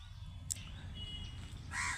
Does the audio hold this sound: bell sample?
no